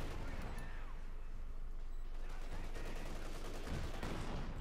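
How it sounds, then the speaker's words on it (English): A .50 caliber machine gun rattles off armor-piercing rounds in the Company of Heroes 2 battlefield, steady rapid bursts amid ongoing war noise, with a voice talking over it. "Popping armor-piercing rounds from the 50 caliber does help a bit there"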